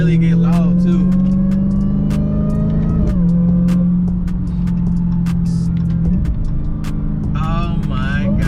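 A 2020 car with a supercharger and a newly installed Legmaker intake, warmed up to temperature, drones loudly and steadily with a layered tonal whine, briefly dipping twice as the revs shift.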